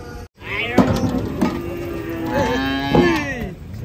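Cows moo several times nearby, long low drawn-out calls overlapping one another, with faint background noise.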